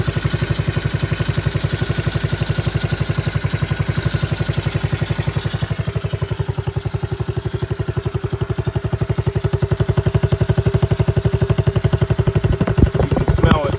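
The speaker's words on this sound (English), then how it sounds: "that motor sounds quiet" A new X-pro Bolt 110cc motorcycle engine runs steadily at idle with a fast, even, fairly quiet putter heard up close and alone, rising slightly near the end.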